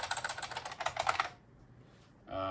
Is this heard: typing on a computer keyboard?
yes